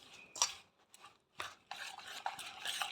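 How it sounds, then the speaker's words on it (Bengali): Chaat masala and salt are mixed by hand into a breakfast dish, heard as close, soft stirring and rubbing sounds with faint clinks between quiet pauses. "এবার এটা মিশিয়ে নেব ভালো করে।"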